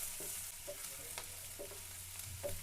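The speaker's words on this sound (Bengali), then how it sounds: "এবার পেঁয়াজ কুচি, লঙ্কা কুচি দিয়ে ভালো করে নাড়াচাড়া করে নিতে হবে" Chopped onion and chili fry with vegetables for a veg Maggi noodle dish, a faint, steady sizzle broken by soft scrapes and taps as the pan is stirred.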